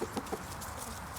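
Farm chickens clucking in winter, three quick soft clucks at the start over steady low background noise, fairly faint and close.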